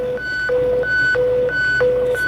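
Phone alarm beeping in a steady repeating pattern, alternating between a low and a high tone, loud and close with no talking.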